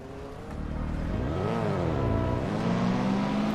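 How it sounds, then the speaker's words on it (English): Race car engine from the Assetto Corsa sim racing game at the Nordschleife, a steady drone that rises and falls through revs, with a whining pitch sweep midway and a higher tone near the end. "I'm hearing all sort of engine sound."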